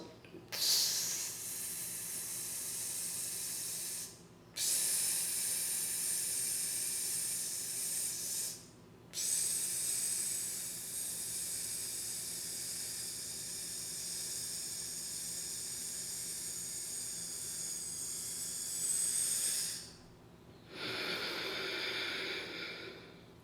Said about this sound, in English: putting your teeth together and your lips together, and you're milking out the exhale